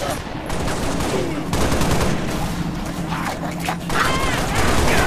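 Sustained gunfire in the Halo Reach video game, rapid automatic bursts and heavy reports rattling almost continuously, loud and close, with a voice shouting over the firefight.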